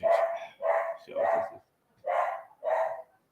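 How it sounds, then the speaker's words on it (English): A pet dog barks at someone arriving at the front door of a home, five loud close barks in quick uneven bursts with a short pause before the last two. "My dog barks every time somebody comes to the door."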